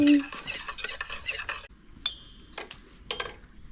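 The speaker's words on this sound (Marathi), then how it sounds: "ढवळून घेतला ना आता मिक्स करतो" Lemon sherbet is stirred with a spoon, giving rapid clinking strokes against the vessel for about a second and a half, then a few separate clinks and taps, close and fairly quiet.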